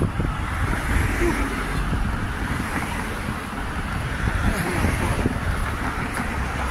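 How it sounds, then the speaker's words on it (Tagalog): Steady, broadband wind rushes and buffets the microphone throughout, with a low rumble underneath and no clear voices. "Mahangin oh, sarap mahangin."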